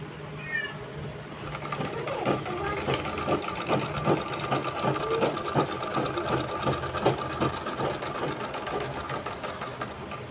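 A picot-fall sewing machine stitches the edge of a saree, running steadily at close range with a rapid, even mechanical rattle and no talking.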